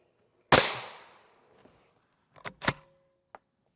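A single sharp, loud crack of an M193 rifle round striking Level III+ steel armor, with a short decaying tail. Faint clicks and small knocks follow it.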